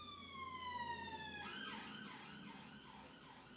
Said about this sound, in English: Listening to all those cars, police cars and ambulances going past